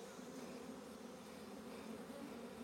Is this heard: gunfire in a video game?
no